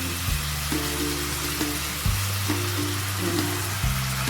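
Ground ginger paste, green chilli paste and tomato slices frying in a pan, a moderate hissing sizzle that runs continuously over a low droning hum.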